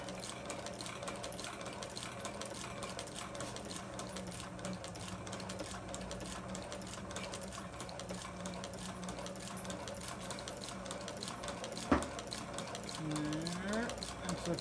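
Sewing machine stitching a tractor-style motorcycle seat cover, a continuous fast mechanical whir and rattle held steady through the whole stretch, close and fairly quiet, with a brief knock near the end.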